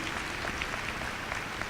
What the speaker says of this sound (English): please stand and we will applaud you all